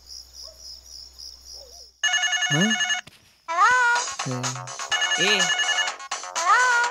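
A telephone ringtone plays loudly in a Marathi comedy film scene, a repeating electronic melody with a brief pause in the middle, while a faint chirping tone sits underneath at the start.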